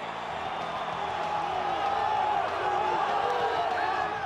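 Dense arena crowd roar from the EA Sports UFC video game as a fighter walks out to the octagon, a steady loud wash of cheering and whooping voices with no break across the clip.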